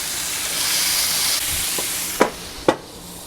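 Burgers sizzling on a Kingsford Long Burn charcoal grill, a steady close hiss of frying fat with a few sharp pops or taps near the end.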